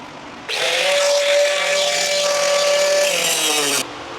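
An angle grinder cuts out fiberglass inside a C5 Corvette during roll cage work, making one loud, steady high-pitched whine at close range that lasts about three seconds and then stops abruptly.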